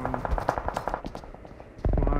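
Machine-gun bursts from the PUBG battle royale video game, rapid rhythmic shots in quick volleys with a heavy loud burst at the end, with no talking.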